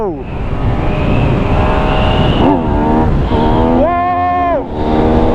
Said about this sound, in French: c'est un moteur vraiment rageur